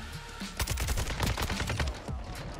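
Rapid bursts of AK fire from the Kastov 762 rifle in Modern Warfare 2, dense and loud, with overlapping automatic shots filling the whole stretch and no talking.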